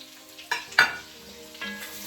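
Carrots go into a hot frying pan for a Jamaican cabbage and sausage dish, setting off short bursts of loud sizzling and stirring clatter over a low, steady fry.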